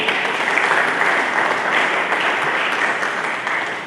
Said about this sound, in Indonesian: Berikan tepuk tangan dulu saudara-saudara.